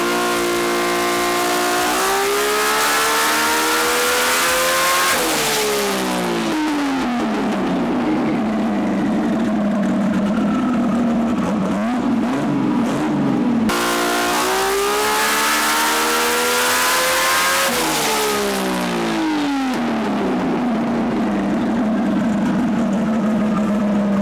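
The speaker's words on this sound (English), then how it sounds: "we're gonna do another test, give it another sweep on low boost, make sure the nitrous turns on" A car engine on a dynamometer running on low boost with a nitrous kit, revving up in two long sweeping pulls, loud and close, each rising through the gears to a roaring peak before dropping back.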